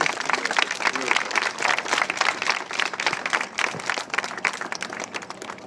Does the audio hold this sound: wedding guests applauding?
yes